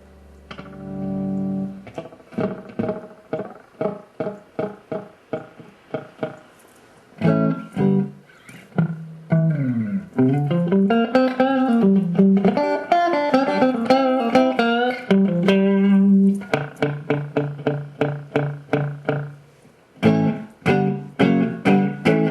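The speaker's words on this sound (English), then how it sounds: "So if we go ahead and turn the delay time way down," Electric guitar played through a delay pedal set to a very short delay time with a vintage DM-2/DM-3 style tone, giving plucked notes and chords a tight slapback echo, alternating choppy strums with sustained melodic lines, loud and close.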